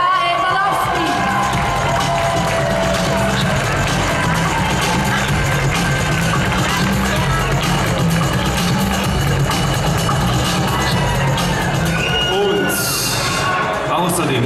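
An audience at the Miss Germany final applauds and cheers for a contestant, a dense, sustained wash of clapping and whoops from a large hall crowd, steady and loud throughout with voices mixed in.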